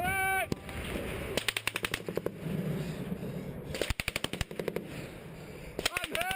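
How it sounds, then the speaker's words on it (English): Live gunfire in a real combat zone, with sharp bursts of automatic rifle fire and scattered single cracks arriving in clusters over a rough background, some shots close and loud, others more distant. "this is a live clip from a gentleman in combat taking live fire"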